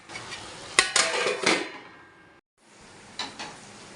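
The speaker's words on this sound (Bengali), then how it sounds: "নেড়ে ঢাকা দিয়ে এখন এটা ভাজা ভাজা হতে থাকবে। তো চলো ঢাকা দিয়ে দিই।" A lid goes onto a frying pan in a home kitchen, a few metallic clanks and scrapes in quick succession, fairly close, followed by a brief silence and one more soft clink.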